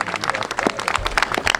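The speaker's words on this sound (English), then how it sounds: "let's have a big round of applause to the other part of his team" A crowd at an outdoor park dedication claps in a dense burst of applause, close and lively, with a voice faintly underneath.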